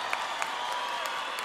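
Crowd at a large dance concert clapping and cheering briefly, a dense wash of applause with a few sharper claps.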